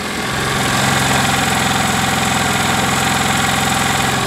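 A small scooter engine idles steadily at close range, a constant buzzing drone with a rattly vibration from the chassis frame running throughout, no voices.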